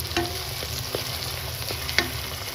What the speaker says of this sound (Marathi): त्याच्यात आपण टोमॅटो टाकून घेऊ.